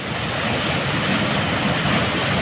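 A Norwegian waterfall that runs all year on rain and snowmelt roars as a steady, loud broadband rush with no breaks, and no voices can be heard over it.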